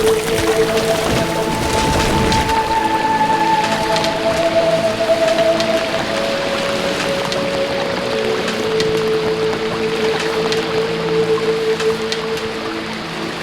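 Heavy, steady rain hissing down on a muddy mountain pilgrimage path near Kedarnath, with water running off the slopes and a faint tonal hum drifting underneath throughout.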